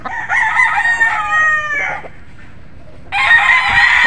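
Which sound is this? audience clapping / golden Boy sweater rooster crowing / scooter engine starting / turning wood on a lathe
golden Boy sweater rooster crowing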